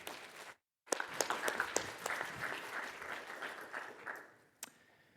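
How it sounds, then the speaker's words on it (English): A conference audience gives a round of applause for a speaker. After a brief silent gap, a steady wash of many hands clapping follows, with a few sharper claps standing out before it thins and fades. "So please give him a round of applause."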